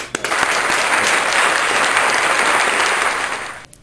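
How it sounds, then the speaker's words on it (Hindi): An audience bursts into loud, steady applause welcoming a devotional singer at a Hindi poetry gathering, the clapping holding strong for several seconds before tapering off quickly. "आइए जोरदार तालियों से स्वागत करते हैं राकेश शर्मा भजनी जी का।"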